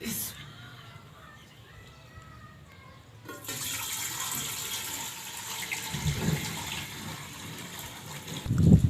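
Water pours steadily with a rushing, splashing sound that grows louder toward the end, like filling a pot from a tap, about one litre of water for sweet vermicelli (seviyan) while rain falls outside.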